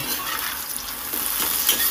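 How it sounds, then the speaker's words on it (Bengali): Pieces of katla fish fry in hot oil in a pan while being stirred, giving a steady, close sizzle with soft scraping texture throughout. "ঢাকাটা খুলে দেখুন প্রায় ভাজা হয়ে গেছে, আর একটু নেড়ে চেড়ে আমি ভাজবো"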